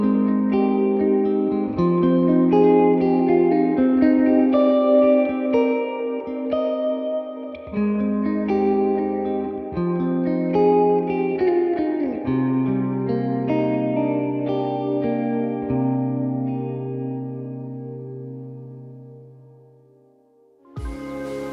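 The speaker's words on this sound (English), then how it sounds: "I want this reverb to be a nice warm cloud underneath everything." An electric guitar through the Morgan Amps Suite plugin plays sustained chords and melodic notes bathed in a warm, cloudlike reverb, each note ringing and fading smoothly before a final decay into near silence.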